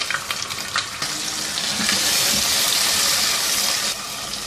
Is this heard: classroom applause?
no